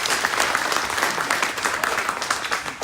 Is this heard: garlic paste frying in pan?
no